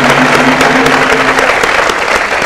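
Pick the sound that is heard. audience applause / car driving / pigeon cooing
audience applause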